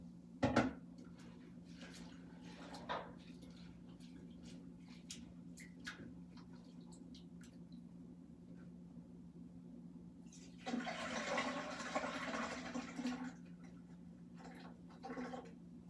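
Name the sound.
pouring off water and washing rice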